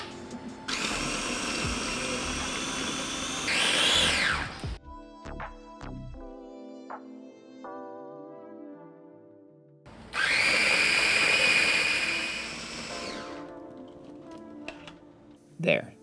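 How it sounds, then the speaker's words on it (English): A blender whirs loudly in two separate bursts blending pesto paste with olive oil, its motor pitch rising as the contents thin out, with clinking and kitchen noises between runs. "Blend all this into paste and season if needed."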